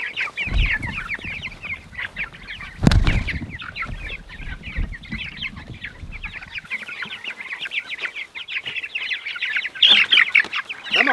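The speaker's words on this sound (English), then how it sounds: "Summer chickens, meat chickens, are more feisty than spring, winter chickens." Feisty summer meat chickens cluck and squawk in a busy, overlapping flock chorus, with a sharp louder burst near the start and fluttering agitation throughout, close to the listener.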